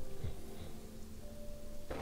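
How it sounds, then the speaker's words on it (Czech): Rain falls in a video game, a faint, soft hiss of steady drops with a few low tonal game sounds underneath, and no talking. "Ale zároveň prší, ne?"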